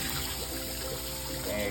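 Rice gets its second rinse in water, a soft trickling and sloshing that runs quietly and steadily throughout.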